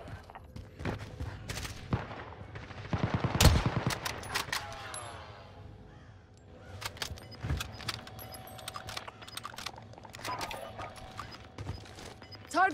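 Vargo assault rifle fire in Call of Duty Warzone on Rebirth Island: sharp bursts of rapid shots, loudest in a dense volley, alongside clanks and other in-game effects.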